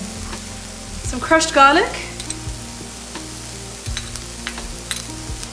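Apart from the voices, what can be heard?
onion sautéing with ostrich goulash cubes in pan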